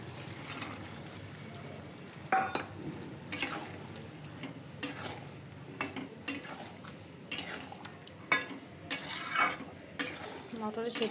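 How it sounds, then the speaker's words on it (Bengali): Boiled peas are added to a pan and stirred, giving faint scraping and clinking of a utensil against metal in irregular bursts over quiet background sizzle. "এবার দেবো সেদ্ধ করা মটর।"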